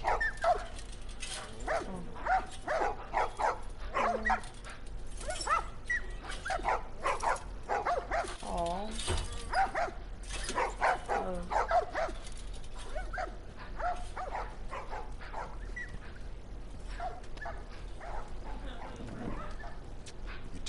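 Dogs in The Last of Us video game bark, yip and whimper repeatedly in short bursts, with some speech mixed into the game sound.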